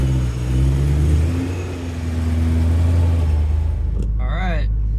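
A BMW E92 M3 warms up with a close, deep engine rumble that swells gently with a couple of mild revs, then settles to a steady idle before a short, high chirp near the end.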